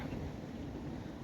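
Low continuous roar of sea waves beneath high coastal cliffs, heard from a distance and mixed with wind noise, no voices.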